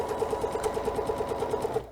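A sewing machine stitches a quilt block in a steady, rapid run of needle strokes that stops near the end, close and fairly loud with no talking.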